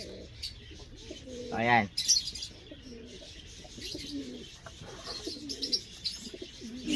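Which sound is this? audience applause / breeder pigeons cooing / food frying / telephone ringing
breeder pigeons cooing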